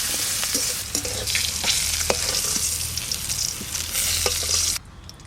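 Cut potatoes fry in hot oil for a Bengali dish, a dense close crackling sizzle with scattered pops and spoon scrapes while stirring, steady throughout before dropping away near the end.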